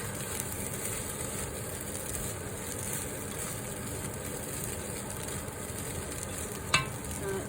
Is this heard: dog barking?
no